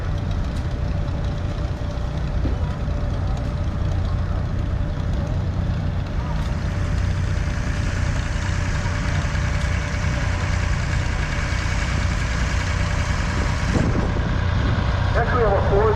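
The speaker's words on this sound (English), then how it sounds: "Next we have a Ford 3000 tractor." A Ford 3000 diesel utility tractor runs in an outdoor parade, its steady low engine rumble droning continuously at close range while people talk faintly in the background.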